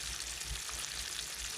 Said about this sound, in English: be careful when you're putting it in the pot, because the oil is very hot and it will burn you